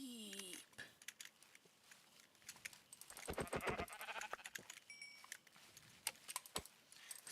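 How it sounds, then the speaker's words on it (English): Sheep bleat faintly in a Minecraft game amid quiet clicking and tapping, with a short cluster of brief calls in the middle and scattered small sounds around them. "Sheep."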